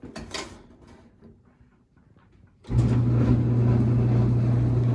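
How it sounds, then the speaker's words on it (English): A clothes dryer starts abruptly partway through after quieter clicks and handling noises, its spinning drum giving a steady mechanical hum and rumble that runs on loud and constant while heating. "We're getting heat and the drum is spinning"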